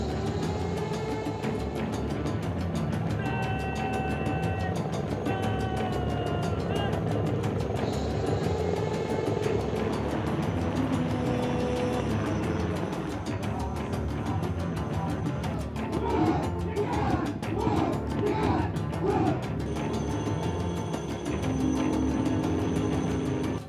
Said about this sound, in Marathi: त्यानंतर हेलिकॉप्टरची प्रात्यक्षिकं झाली